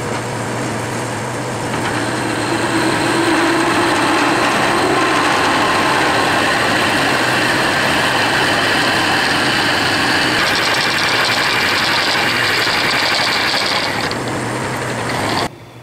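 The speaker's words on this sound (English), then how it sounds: "this is the very largest drill bit that I own, at least that would fit in the lathe" A metal lathe runs continuously with a large drill bit boring into the workpiece, a steady loud mechanical whir and grinding hum held for the full length before stopping abruptly near the end.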